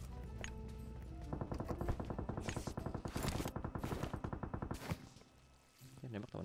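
Rapid automatic gunfire in the mobile battle royale game PUBG Mobile, bursts of close, loud shots in quick rhythmic succession for several seconds before cutting off, with a brief quieter tail at the end.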